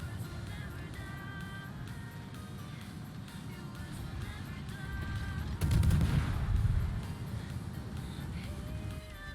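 Naval guns firing during a World of Warships battle, including a destroyer shooting at an aircraft carrier: a low rumbling barrage of distant booms that swells into a heavier burst midway, under faint game ambience.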